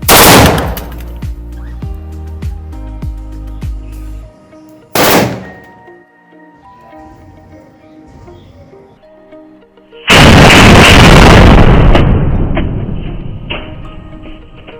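Diwali firecrackers set off on toy cars, heard as loud close bursts: a sharp crackling blast, a single bang a few seconds later, then a long, harsh hissing, crackling eruption that slowly fades.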